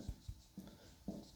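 Chalk or marker strokes on a classroom board, a few short separate scrapes and taps at close range, quiet with no talking over them.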